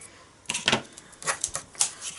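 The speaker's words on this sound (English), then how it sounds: "Let's cut off the excess." Scissors snip excess card stock on a handmade Stampin' Up greeting card, giving a quick series of crisp, close cuts and rustles in irregular bursts.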